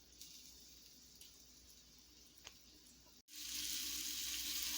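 Steady sizzling from chicken frying in a wok, a continuous hiss that grows noticeably louder and brighter partway through after a brief dip, with no voices.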